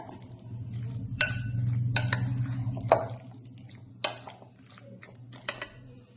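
A spoon stirs and mixes ingredients in a small metal pot for Nepali chukauni, giving scattered clinks and scrapes of utensil on metal over a steady low kitchen hum, with no talk.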